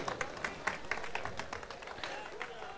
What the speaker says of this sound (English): Give a huge round of applause for Mr.